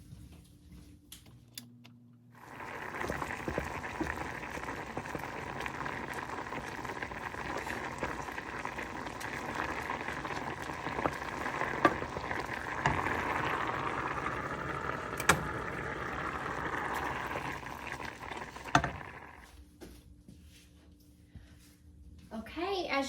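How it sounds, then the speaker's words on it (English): Raisins boiling hard in a pot of water on a stove give a steady bubbling, churning wash that runs for about sixteen seconds, with a few small clinks and the occasional voice beneath. "the raisins were boiling, so they're real nice and hot"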